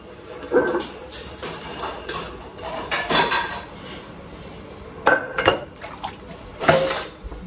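Dishes, pots and pans being scrubbed and washed by hand, with repeated sharp clinks and clatters of metal utensils knocking together at irregular intervals, close and fairly loud over running water.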